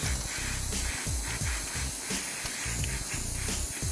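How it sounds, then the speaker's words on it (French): A gas blowtorch hisses steadily while heating a braided wire coil, a continuous loud rushing sound with no breaks. "j'ai plus beaucoup de gaz, donc c'est un peu long, mais si vous avez un bon chalumeau, ça va plus vite."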